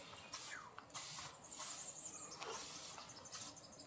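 Insect repellent containing DEET sprayed outdoors in a Minnesota forest, several sharp hissing bursts at close range, each about a third of a second long, spaced irregularly across a few seconds with quiet gaps between.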